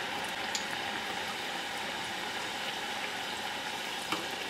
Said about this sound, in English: And this will be in the oil, in the frying oil, for 5 minutes.